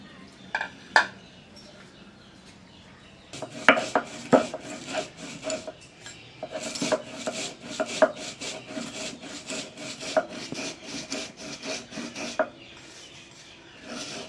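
Fried pickle spices with dried chillies for a chalta (elephant apple) pickle being ground by hand, giving repeated rough rubbing and grating strokes with occasional clinks of a utensil, close and moderately loud, quiet at first then steady.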